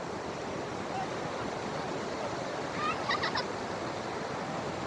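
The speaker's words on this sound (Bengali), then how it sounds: "পাথরের উপরে সমুদ্রের মধ্যে ঢেউ আসছে।" Sea waves breaking over rocks on a stone beach at Inani, making a loud, continuous roaring wash with a brief fowl-like call partway through.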